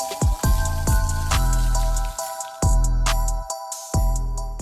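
Water bursts and splashes out of a freshly installed backyard PVC sprinkler irrigation system being flushed, coming in loud uneven spurts with short pauses between them, close by and with no talking.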